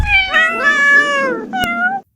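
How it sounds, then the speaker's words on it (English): Cats meowing in a short, loud, close burst: one drawn-out wavering meow followed by a brief second cry, clear and alone. "Or 12 cats stuck in a tree."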